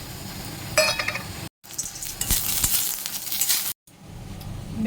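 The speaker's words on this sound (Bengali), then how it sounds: "বড়ি ভাজা করবো এবার।" Bori lentil dumplings fry in hot oil with a close, bright sizzle, broken by a few clinks of a utensil against the pan and two sudden cuts.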